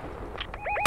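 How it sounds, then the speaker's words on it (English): Gunfire in an online multiplayer shooter game, a sharp burst cracking in right at the end after a brief whistling electronic chirp, fairly close and loud. "Careful, somebody's shooting behind y'all."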